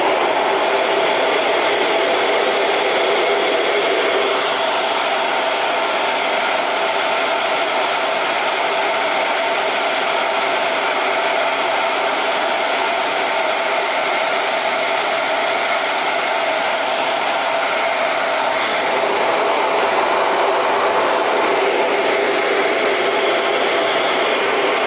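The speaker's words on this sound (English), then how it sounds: "you're going to take your blow dryer on high and you're going to blow the heat at the ball" A hair dryer set on high blows hot air onto a crayon-filled ornament ball to melt the wax, its steady loud whoosh running unbroken and alone with a slight shift in tone near the end.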